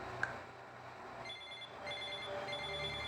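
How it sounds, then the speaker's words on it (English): A telephone rings with a steady electronic warble that starts partway through and continues to the end, fairly faint over a low background rumble. "when my phone starts ringing"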